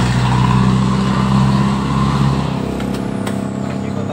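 A Honda Beat FI scooter engine with a no-power fault runs steadily at close range with a low, droning hum, then drops and fades as it seems to cut out near the end.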